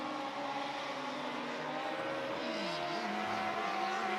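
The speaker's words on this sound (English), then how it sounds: "that car does not sound healthy at all right now" A speedway race car on the opening lap of a dirt oval race, its engine droning and sweeping in pitch at a distance, fairly faint and steady with a rough, uneven note.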